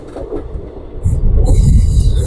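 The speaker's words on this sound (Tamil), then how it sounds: "அப்படியே அந்த மரத்தை ஒட்டி போது பாருங்க ரயில்" A train passes near a tree, low rumbling rail noise rising and growing louder and closer after the first second, steady and continuous to the end.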